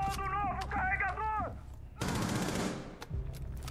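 A Rainbow Six Siege gunshot bursts out after a tonal, warbling sound, followed by a decaying rumble and some faint background talk.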